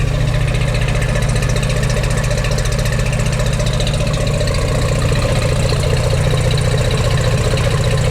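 A 1953 Chevrolet Corvette engine idles slowly and steadily up close, a loud, even low throbbing rumble with no voices over it.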